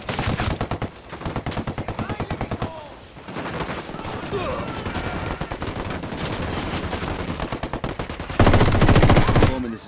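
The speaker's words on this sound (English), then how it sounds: "Open fire." Dense automatic gunfire from several weapons in the video game Ghost Recon Wildlands, firing in rapid rattling bursts close by, growing louder toward the end, with voices talking over it.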